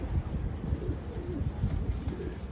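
Racing pigeons in a loft give soft, low repeated coos in a steady murmur, close by and continuous, with no talking over them.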